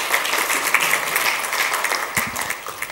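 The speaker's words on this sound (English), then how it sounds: "Give them a clap." An audience bursts into steady applause at a talk or workshop, a dense, continuous clatter of many hands lasting the whole stretch, fairly loud and even, with a few heavier claps near the end.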